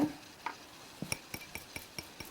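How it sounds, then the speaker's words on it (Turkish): Spoon stirring labneh cheese in a bowl for a no-bake cheesecake, making a series of distinct scraping clicks and taps against the bowl, roughly evenly spaced, close and clear, with no one talking. "Labnemi güzelce bir karıştırıyorum."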